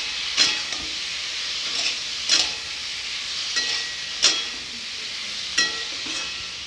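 Ground spices (chilli powder, coriander powder and turmeric) frying in a pan with green chillies and salt, for an egg and potato curry, give a steady sizzle broken by about five sharp scraping stir strokes, close and fairly loud, with no voices.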